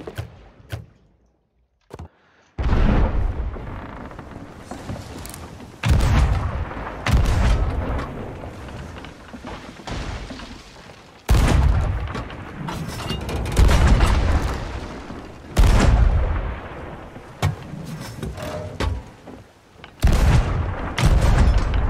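Ship cannons fire in the Sea of Thieves pirate game, a series of heavy deep booms spaced a few seconds apart, each followed by a rumbling tail, loud and close with no talk over them.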